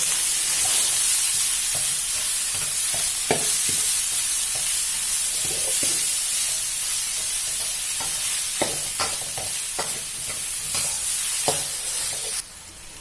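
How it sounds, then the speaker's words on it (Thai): Garlic chives stir-fried with chicken and shrimp in a pan give a steady close sizzle, broken by frequent short scraping stirs from the spatula, with no talking. "ไส้กุ้ยช่ายเนี่ยเราจะผัดให้สุกเลยนะคะ"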